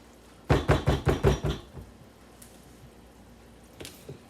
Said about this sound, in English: I think I better just whisk it.